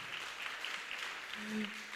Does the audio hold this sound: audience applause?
yes